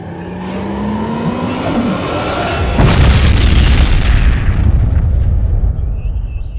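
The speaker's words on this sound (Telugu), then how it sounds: "పిడుగు కాదన్నా, అక్కడెవరో బాంబు వేశారు" A bomb blast in a Telugu-dubbed film lands as a sudden heavy boom after a rising rumble, then rolls on as a loud, dense roar that slowly thins out, with no talking.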